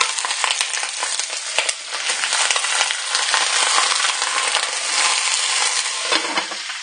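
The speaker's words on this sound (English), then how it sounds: "But basically you just want to start frying them" Stuffed bell peppers fry in a pan with a strong, steady sizzle broken by small crackles and pops. Close and loud, with no one talking.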